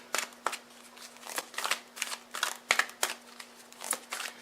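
Tarot cards being shuffled and drawn, a series of crisp riffling and flicking bursts up close in an irregular rhythm, each a short papery snap, with a faint steady hum beneath and no talk.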